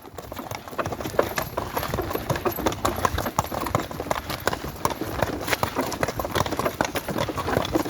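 Hooves of a draught mare pulling a load clop in a steady, rapid rhythm on a hard surface in rural Ternopil region, Ukraine, close and continuous from start to finish.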